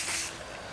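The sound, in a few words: hair spray being sprayed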